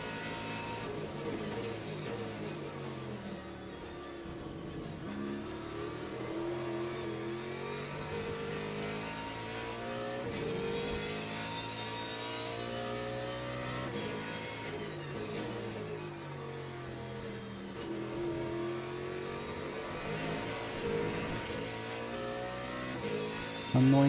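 GT3 race car in Le Mans Ultimate on a slightly wet track, engine revving and accelerating steadily through gears, loud and close throughout with shifting pitch sweeps and no talk.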